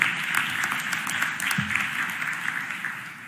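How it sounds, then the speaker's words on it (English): A crowd in a large hall applauds the mayors of America during a Philadelphia budget address, sustained mid-level clapping with a faint murmur underneath. "Give a round of applause to all of the mayors of America"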